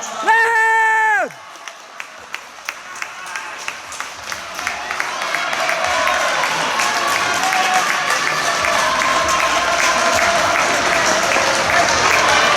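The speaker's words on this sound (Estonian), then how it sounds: "Viimane 50 meetrit. Aplausi." Spectators at an indoor 3000m men's race at a Christmas athletics meet applaud runners in the final 50 metres; a bell rings at the start, then claps build into sustained crowd applause and cheering.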